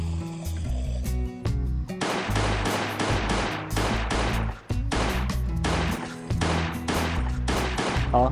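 Rapid bursts of gunfire from the survival game Last Day on Earth: Survival, dense and loud over a steady game soundtrack, with only a short lull near the middle.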